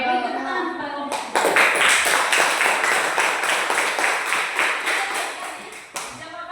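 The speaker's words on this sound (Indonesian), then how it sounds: "Oke, beri tepuk tangan kepada kelompok" A primary-school class claps in unison for a group of students, a burst of crisp rhythmic claps starting suddenly after brief talk and repeating at a quick, even beat for about five seconds before stopping.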